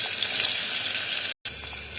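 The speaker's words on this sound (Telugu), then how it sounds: "ఆ తర్వాత ముందుగా కడిగి శుభ్రంగా పెట్టుకున్న కరివేపాకు తర్వాత ఆనియన్స్ వేసుకోండి ఫ్రెండ్స్" Onions fry with cumin and curry leaves in a pan for a thotakura fry, a loud, steady close-up sizzle that drops out for a moment and then resumes, with no talk.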